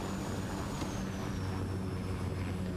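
A PMDG 737's engine runs in the video game Flight Simulator 2024, a steady, even jet drone with a faint high whine held throughout, with no voices.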